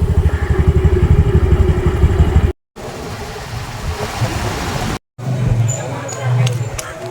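A scooter riding along a road on the way to Nagore Dargah, its engine droning and rattling near and loud with wind noise, broken by two brief silent gaps and followed by passing traffic.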